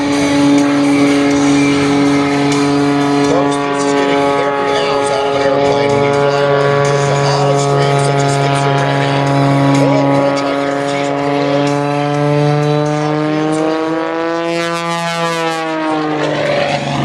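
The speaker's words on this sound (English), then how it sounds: "This is some of the most extreme biplane flying you will see any place" A Prometheus biplane flies extreme aerobatics at the 2013 Shafter, California airshow, its propeller engine droning loud and continuous, the pitch sliding up and down as it maneuvers.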